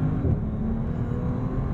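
A Bentley Continental GT Speed W12 engine blips on a quick paddle downshift, giving a brief, loud, deep rumbling rev heard from inside the cabin.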